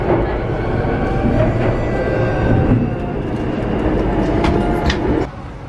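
A train rumbles past close by, a steady heavy roar with rattling and faint squeals, easing slightly toward the end.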